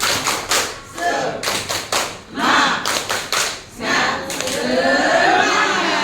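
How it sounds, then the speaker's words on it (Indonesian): A group claps together in a quick, patterned rhythm of bursts and pauses, then breaks into looser, continuous applause. "Tepuk semangat"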